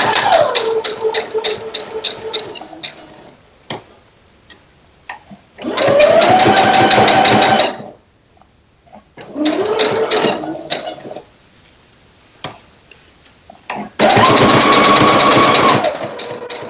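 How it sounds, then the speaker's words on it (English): A home sewing machine stitches fabric pieces for a cosplay hoodie, running in loud, steady bursts of rapid whirring stitching with short pauses and quieter gaps between runs. "Making sure I don't sew over any pins."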